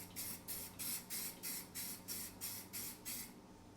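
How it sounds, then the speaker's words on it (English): Rust-Oleum 2-in-1 automotive primer and sandable filler sprayed from an aerosol can onto a wheel rim, in about nine short, evenly spaced hissing bursts, close and loud. "I got some Rust-Oleum 2-in-1 automotive primer and sandable filler. So we'll start giving it a few sprays"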